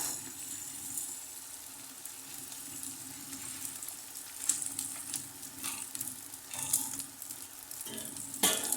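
Edible gum (gond) frying in ghee, puffing up as it cooks, gives a steady close sizzle with bursts of crackle and faint stirring throughout, with no talk over it.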